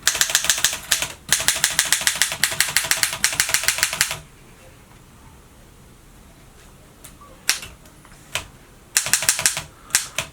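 Rapid keystrokes on an Erika M portable typewriter set to red-ribbon mode clatter in dense bursts, pausing for a quiet gap midway before a few single strikes and another quick run of typing; no one speaks.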